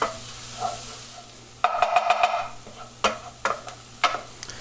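Mushrooms stirred in melted butter in a pan for a beef Wellington burger, a low sizzle broken by a quick burst of scraping and several separate spoon knocks, close and without talk.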